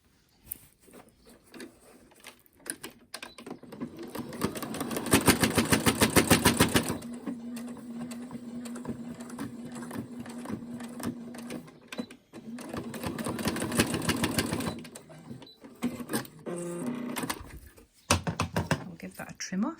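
A sewing machine stitching fabric for a button headband, running in two rapid mechanical bursts separated by pauses, close by, with soft handling noises and quiet talk in between.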